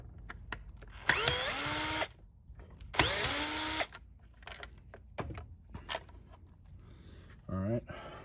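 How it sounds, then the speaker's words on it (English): Power tool spinning out screws from a Roomba 692 robot vacuum during a teardown, two loud whirring bursts of about a second each, close up, followed by small clicks, handling sounds and a short third whir. "I'm going to remove these two screws and take this sensor out."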